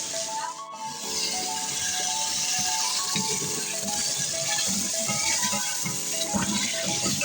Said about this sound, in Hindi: 2 टेबल स्पून पानी हमने डाला, ताकि ये हमारे जो मसाले हैं ये इसकी तरह फ्राई हो जाए